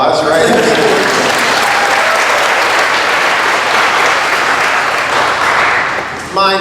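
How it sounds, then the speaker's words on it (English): Sustained loud applause from a symposium panel audience, dense clapping that holds steady for several seconds before fading out quickly at the end. "That's worth a round of applause, right?"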